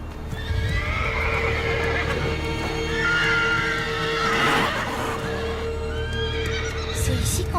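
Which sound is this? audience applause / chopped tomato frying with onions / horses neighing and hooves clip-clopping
horses neighing and hooves clip-clopping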